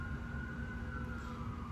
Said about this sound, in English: I swear, every time I'm making a video there's a siren.